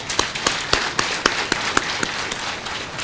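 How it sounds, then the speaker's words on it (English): Scattered claps ring out in a formal ceremony setting in Kenya, a sparse, uneven patter of individual hand claps rather than a full ovation, with no talk over it. "please join me actually in a round of applause"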